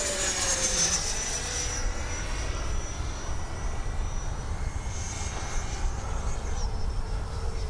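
A Freewing L-39 twin-EDF RC jet flies toward the listener and peels away, its high whine and rushing roar sweeping past loud and then fading steadily.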